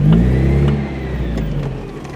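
Mazda Miata driving with the top down on a cool day, a loud nearby engine pulling hard and then easing off, with steady road and wind rumble and no voices.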